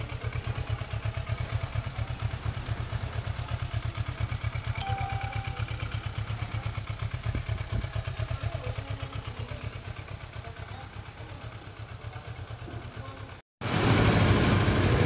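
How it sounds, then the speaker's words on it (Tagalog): A Kawasaki Ninja 650 engine runs without a muffler, a raw, rapid pulsing thrum close by that holds steady for a long stretch, eases slightly, then cuts off before a louder burst at the end. "Ganyan tunog niya kasi hindi pa siya naka-muffler."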